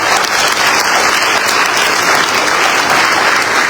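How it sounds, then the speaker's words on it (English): Loud, dense applause fills a graduation ceremony hall, a continuous roar of many hands clapping close by with no speech over it. "That hand clap is not enough."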